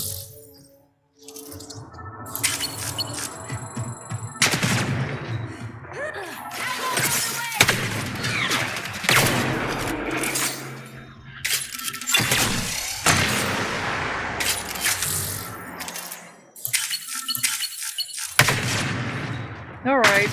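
Gunfire in Mass Effect Andromeda as the player comes under attack, with repeated loud bursts and rapid shots spread through a busy mix of combat effects.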